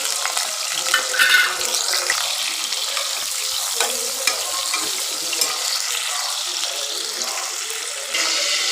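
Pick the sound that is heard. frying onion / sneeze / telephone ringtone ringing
frying onion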